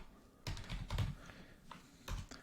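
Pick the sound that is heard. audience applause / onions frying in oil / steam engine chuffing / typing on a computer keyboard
typing on a computer keyboard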